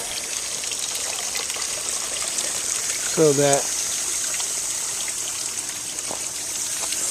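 Water streams from a hose into a basin outdoors, a steady trickling hiss running throughout at moderate level, with a brief spoken phrase midway.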